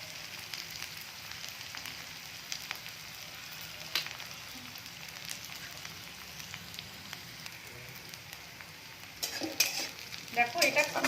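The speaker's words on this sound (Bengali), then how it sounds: "পেঁয়াজটা আমি একটু ব্রাউন করে ভেজে নেব। 2 মিনিট মতো নাড়লে এটা কালার এসে যাবে।" Onion browning in a pan for a hotel-style sambar, with a steady close sizzle under frequent scraping stirs that grow louder and busier near the end, no one talking.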